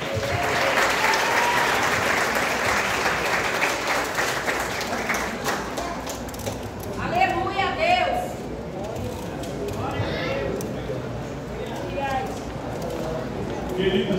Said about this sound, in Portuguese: Quem crê na Bíblia, aplaude ao Senhor.